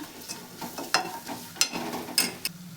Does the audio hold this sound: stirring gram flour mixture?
yes